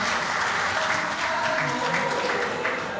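Dense, continuous applause from a conference audience fills the room for panelists after a discussion on hydrocarbons, steady and fairly loud throughout.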